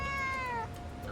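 A pet cat named Ginkgo gives a single clear, close meow that rises and then falls away, followed by quiet room tone.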